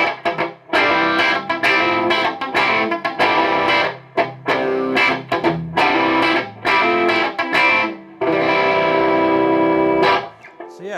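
A Gibson SG Special electric guitar, a limited-edition 2008 in Blue Mist, plays a loud run of chords and riffs on its bridge pickup with a bright, slightly driven tone and short pauses between phrases.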